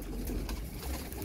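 Racing pigeons coo softly alongside tame quails, a brief low murmuring call under a steady background hum.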